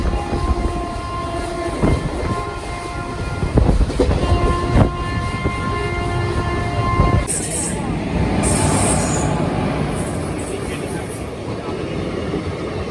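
The 12326 Nangal Dam–Kolkata Gurumukhi SF Express train running over diverging tracks, loud steady rumble with wheel clacks and ringing squeal tones, then high screeching bursts of wheel squeal in the second half.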